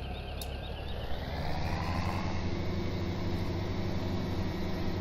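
A tractor engine in Farming Simulator 17 drones in a steady, close, low hum with a slight rise in pitch partway through and no voices.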